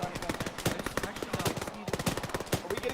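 Gunfire in the ARMA 3 military video game during a near ambush: rapid bursts of automatic weapon shots crack in quick succession, fairly close and sustained throughout, with a brief voice underneath.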